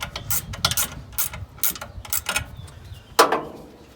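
A hand ratchet clicks in quick bursts, tightening bolts in the engine bay of a 1971 Ford F100 during a power steering belt replacement, with short rapid pawl clicks and a louder metallic clack near the end.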